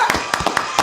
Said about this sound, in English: they actually started clapping